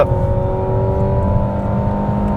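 A 2025 Mazda CX-70 hybrid under way, its engine holding a steady, fairly loud drone with a low rumble and faint tonal whine, continuous with no one speaking.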